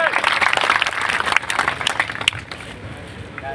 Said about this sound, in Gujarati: આપણે ગેનીબેનને આપણે તાળી વગાડથી વધાવી લઈએ.